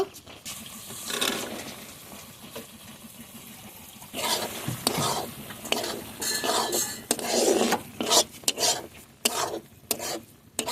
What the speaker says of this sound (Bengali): মটরশুঁটিটা একটু কষিয়ে নেব